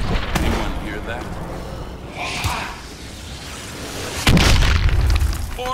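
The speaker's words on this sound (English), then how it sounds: "Orbital drop!" Orbital drop explosion in the Call of Duty: Advanced Warfare Exo Zombies mode, a heavy boom that hits near the end, following softer game effects and scattered voices earlier.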